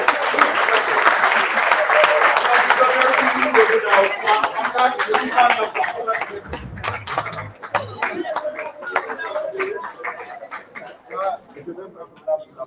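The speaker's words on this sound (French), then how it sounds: "Mais on m'applaudit pour le gouvernorat" Applause and clapping from the audience at an elective general assembly of the CNPM, loud and dense at first, then thinning into scattered claps with talk mixed in.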